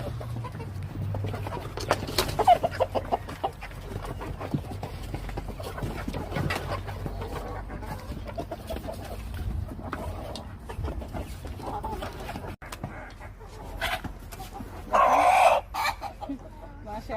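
Chickens clucking on and off nearby on a rooftop, with occasional louder calls and faint background noise; a brief burst of activity near the end.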